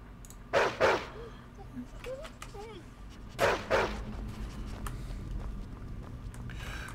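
A dog in the video game Skyrim barks two quick loud barks, then after a pause two more, close by with soft footsteps and faint game ambience between.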